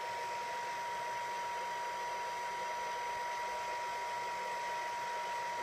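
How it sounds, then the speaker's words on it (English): A heat gun on its lowest setting blows steadily to dry watercolour paint, giving a constant soft whirring hum with an even airy hiss that never changes in level. "I've just got my heat gun on the first setting, because it's a much softer blow"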